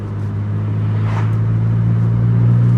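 A Porsche 911 Carrera S of the 991.1 generation, flat-six engine, rumbles nearby with a deep, steady tone that swells slightly as it revs, heard alone and loud.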